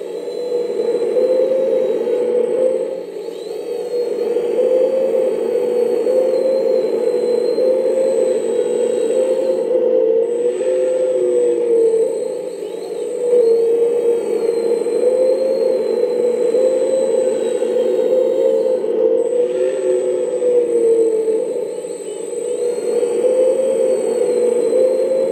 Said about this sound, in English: Do the digging, mix control pump and the hydraulic sound.